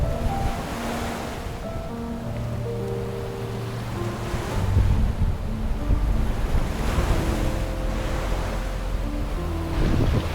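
Strong wind and ocean waves roar around a sailboat offshore in Alaska, a continuous loud wash of surf and gusts with low droning tones underneath, with no talking.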